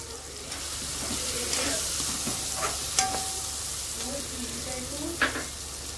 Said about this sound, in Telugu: ఇవన్నీ 2 నిమిషాలు కొద్దిగా ఫ్రై చేయాలి.